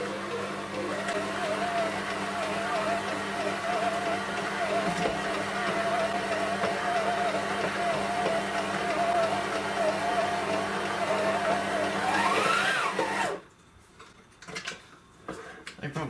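Stand mixer with a dough hook kneading brie and bacon bread dough, a steady mechanical whir with a faint rhythmic knock for about thirteen seconds, then it stops and the room goes quiet.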